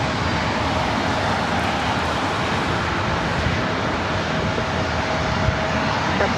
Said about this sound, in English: The Alaska 737-900ER heading to Seattle,